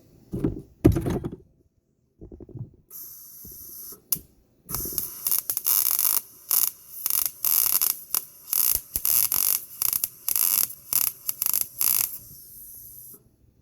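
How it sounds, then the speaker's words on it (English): A welder tacks a steel base plate onto a trap, giving a run of loud, crackling buzz bursts, each a second or so long, separated by short silences, after some quieter handling noises at the start. "little snafu with the welder. I think I got it working now"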